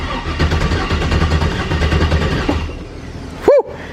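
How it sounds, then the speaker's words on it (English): A turbocharged Ford Ranger engine runs with a loud, rhythmic chugging roar, then cuts off abruptly, followed by a brief rising whine and near silence, close by. "That's a starter if I've ever heard one."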